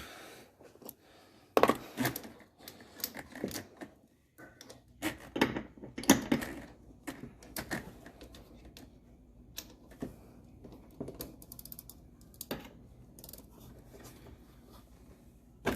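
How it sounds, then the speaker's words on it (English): A ratchet with an extension works loose a power steering line fitting on a 1998 Chevrolet S10 Blazer, giving irregular close metallic clicks and knocks in bursts, with a louder clack near the start and quieter pauses between. "you can put a extension and a ratchet on it. So that's what I'm going to use today to get these off of here"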